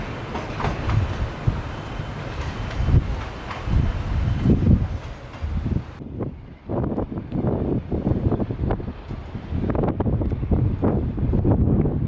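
Strong wind by the Solway Firth near Armathwaite Signal Box rushes and buffets the microphone in uneven gusts, a rumbling roar that swells and dips throughout, with no one speaking.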